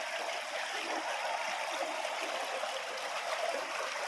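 A river flows at Wawa Dam in Montalban, Rizal, making a steady, even rush of running water that holds at one level throughout. No voices are heard over it.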